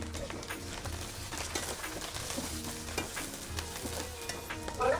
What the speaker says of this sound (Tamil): தேவையான அளவு வெந்தயம், கடுகு, கருவேப்பிலையா, சின்ன வெங்காயம் தாளிக்கணும்.